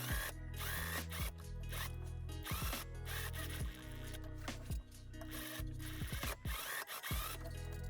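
A sewing machine stitches the facing along a skirt hem in thick fabric, running in steady bursts with brief pauses, close and fairly loud with no talking.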